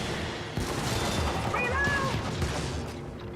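Liberator gun in a video game firing straight shots: loud overlapping blasts and booms over continuous battle noise, with a voice talking faintly in the mix.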